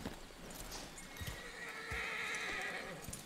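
A horse in the video game Red Dead Redemption 2 gives a loud, drawn-out whinny, with clip-clop hoof steps in the quiet background.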